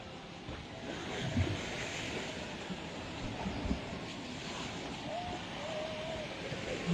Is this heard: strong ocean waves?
yes